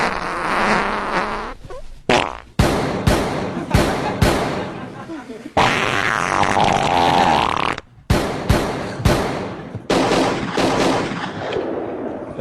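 Loud fart sound effects play repeatedly on a comedy radio show, as a string of abrupt, blaring bursts separated by short pauses and mixed with voices.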